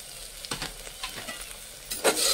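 Fenugreek leaves and green chillies fry in a pan for a simple mutton curry, giving a close, steady sizzle broken by quick stirring scrapes and a louder burst of spattering near the end, with no voices.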